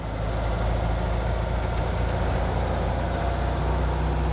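A car engine fed by dual Weber 40 IDF carburetors runs at light throttle, a steady low rumbling drone close by and alone, with no talking.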